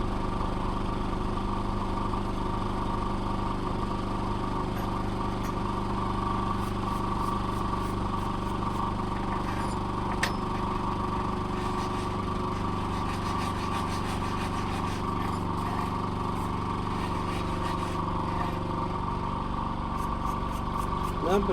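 A grinder sharpening metal clipper blades runs steadily and loud throughout, a constant motorized whine with a low hum and faint ticking clicks from the blade against the wheel.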